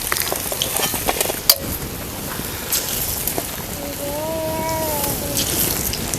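Ridge gourd fritters (bhaji) sizzle in hot oil with a steady crackling hiss, plus occasional utensil clicks and one sharp knock near the middle; a faint tonal whine drifts in toward the end.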